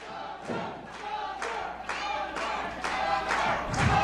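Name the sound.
wrestling crowd cheering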